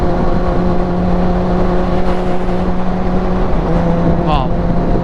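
A Kawasaki motorcycle engine running in fourth gear at around 5,000 RPM, heard as a loud, steady drone with rushing wind noise. A short chirp rises briefly near the end.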